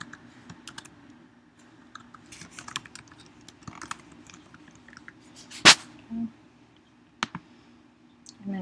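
Computer keyboard typing in short irregular bursts of light clicks, close and soft, with a couple of sharper louder clicks and one brief loud noise partway through.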